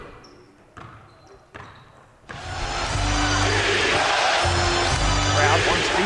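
A few sharp thumps, then a loud crowd roars into rhythmic defense chanting at a youth basketball game, filling an indoor arena and holding steady.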